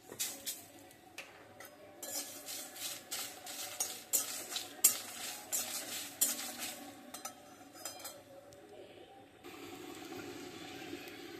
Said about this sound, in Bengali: এখানে জলপাই আর বড়ি একসাথে গুড় দিয়ে পাক দিয়ে নিচ্ছি।